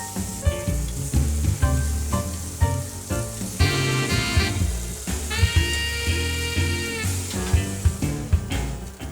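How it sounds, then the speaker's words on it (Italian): Scallops browning in a hot pan, seared golden on both sides, with a steady sizzle running under loud rhythmic background music for the whole stretch. "Le capesante devono essere dorate e devono essere leggermente rosa all'interno, per cui le facciamo dorare da ambo i lati"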